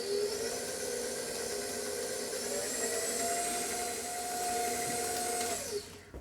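A stand mixer whirs steadily through gluten free coconut cake batter, a close, constant motor drone with a slight pitch shift late on before it switches off at the end.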